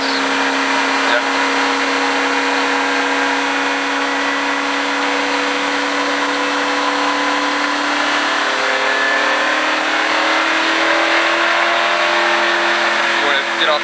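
A stock car engine drones loudly and steadily on a racetrack, a sustained close-up roar with a slowly shifting pitch as the car runs through the course.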